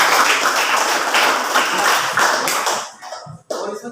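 Students clapping in a classroom, a brisk burst of hand claps for nearly three seconds that fades out, followed by a few scattered claps and light knocks.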